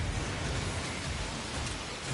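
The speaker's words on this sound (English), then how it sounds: "We won't last long in a heavy fall like this. Find cover from the rain on the double." Heavy rain falls in the Synduality Echoes of Ada video game, a steady, dense, even hiss that stays constant throughout with no voices over it.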